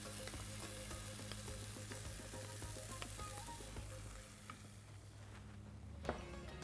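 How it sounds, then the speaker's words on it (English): Tomatoes cook in a pan for spinach soup with a faint, continuous sizzle and crackle. Soft background music plays underneath, and a light clink sounds near the end. "you add in your tomatoes and let it cook for about 3 to 4 minutes."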